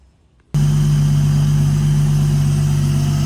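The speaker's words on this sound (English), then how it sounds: "Car is running with the Link ECU." A Toyota Altezza's 1JZ engine on a Link ECU fires up after a brief quiet moment, then idles steadily and loudly with a strong low hum and a constant droning tone.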